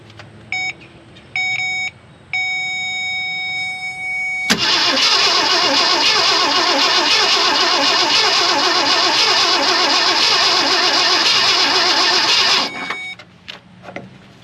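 A Ford Thunderbird with a blown head gasket cranks over loudly for about eight seconds, then cuts off abruptly. A few short electronic beeps sound close by just before it starts.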